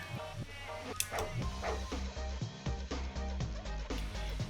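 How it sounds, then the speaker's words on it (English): Dogs bark over and over in The Case Book of Arne, a steady run of sharp yaps and barks set against game music with a low, rhythmic bed. "Such incessant barking."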